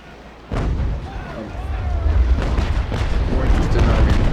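Ship cannons fire in a naval battle video game: a sharp boom, then a run of heavy, rumbling blasts and cracks that build into dense, loud continuous gunfire, with a voice talking underneath.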